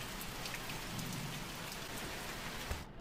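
Steady rain falls in the horror video game The Mortuary Assistant, a soft continuous patter of drops that holds evenly with no voices over it.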